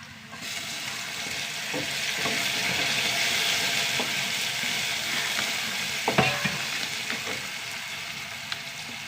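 Onions and garlic fry in a pan with a continuous close sizzle, broken by occasional scraping and stirring knocks from a utensil.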